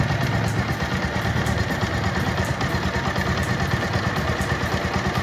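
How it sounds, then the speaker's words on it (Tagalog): A Kawasaki Rouser 180cc motorcycle engine idles steadily at close range after an oil change, a continuous loud rumbling putter with light mechanical clatter and no talking. "Medyo mababa yung minor niya sa umpisa, pero pagka nag-init na yung makina niya, tataas na po ang minor niya."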